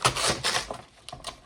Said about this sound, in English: And then you're going to rip